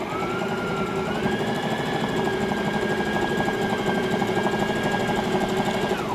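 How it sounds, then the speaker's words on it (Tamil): A Brother sewing machine stitching an embroidery design, running continuously with a fast, even mechanical rattle and a steady motor whine, close and alone. "இப்போ நான் ஸ்டிச் பண்ணுறேன்."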